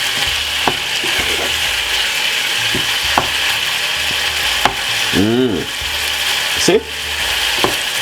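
Liver sizzling steadily in a pan for Jamaican cooking, a loud constant crackle with occasional utensil clinks and stirring scrapes; a voice speaks briefly over it.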